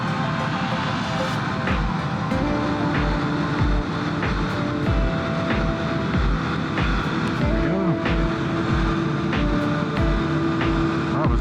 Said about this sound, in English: Just rolling, minimal throttle, like just cracking the throttle over, just to give it that extra nudge.